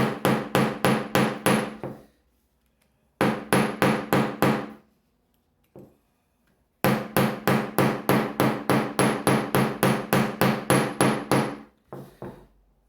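Sharp, ringing blows of a stone hammer striking metal in quick steady runs, several bursts separated by short pauses, loud and close with bright metallic overtones.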